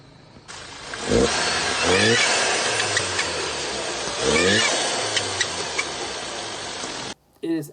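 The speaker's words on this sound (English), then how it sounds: "I will let you hear what it sounds like when you rev the motor." A modified car engine with a fault that makes it sound wrong, revved hard twice from a rumbling idle, each rev climbing and falling back, loud and close before cutting off abruptly.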